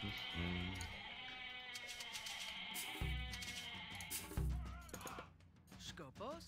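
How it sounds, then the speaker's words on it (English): Goats bleat repeatedly in the Age of Mythology video game, several wavering animal cries layered over game sound effects and background music, with someone speaking briefly. "Okay, goats everywhere."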